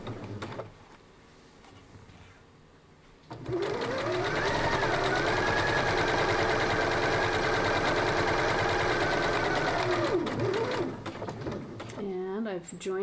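A sewing machine runs steadily for several seconds while stitching a drawstring bag, a loud continuous whirring hum that starts abruptly and stops near the end, with quieter handling before and after.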